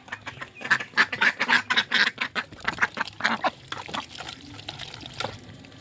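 Ducks on a flooded farm quack loudly and near in a quick run of repeated calls, then fade into scattered softer quacks with a trickle of water underneath.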